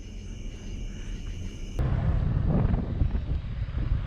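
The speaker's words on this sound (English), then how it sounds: "It's kind of windy" Steady wind rushing and buffeting against the microphone, growing louder and rougher partway through, with no voices.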